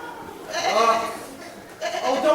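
Sheep bleat in a children's fable setting, two drawn-out wavering calls close by with a short gap between them and no talk over them.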